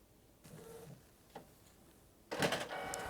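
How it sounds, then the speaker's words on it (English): An inkjet-style home printer starts up printing a quilting foundation page, with a few faint mechanical whirs and a click, then a louder steady feed-and-print run near the mic. "And there goes my printer."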